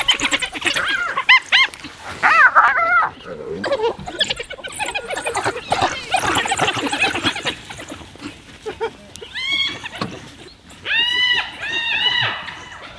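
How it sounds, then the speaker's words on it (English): African wild dogs feed at a kill, giving high squeaky twittering calls and yelps in bursts over a busy background, with someone talking at times. "You've got some wild dogs feeding this side."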